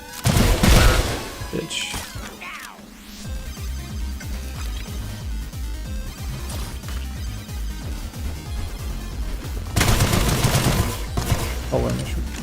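Enemy gunfire in the shooter Sulfur, loud and sustained, with rapid bursts of shots and impacts that swell near the start and again toward the end. A voice speaks briefly.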